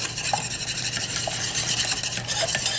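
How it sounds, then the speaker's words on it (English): Dry ingredients for an "Eat and Grow Thin" salad dressing are whisked briskly in a bowl, a fast, even rhythm of scraping strokes, close and loud with no talking. "Whisk that up well"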